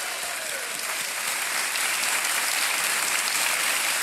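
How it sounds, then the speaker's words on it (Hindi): Loud, sustained studio applause fills the set of Kaun Banega Crorepati, a dense continuous wash of many hands clapping for a winning contestant, holding steady throughout. "जोरदार तालियां बज जाए देवी और सजमैन के लिए"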